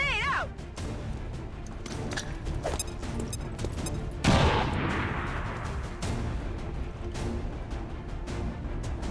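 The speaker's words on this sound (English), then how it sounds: "Let's go ahead and use a grenade." A grenade detonates in the video game XCOM 2 with a sudden burst of blast and rumble midway, surrounded by game effects, clicks and a brief tonal sound at the start.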